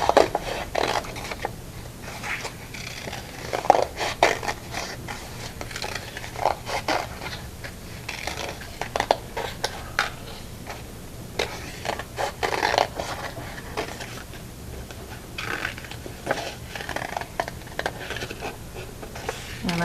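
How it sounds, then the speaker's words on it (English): Scissors cutting out paper tree shapes, black and white sheets together, giving faint, close snipping and crisp paper rustles in an irregular pattern throughout. "now I'm going to cut out my second tree"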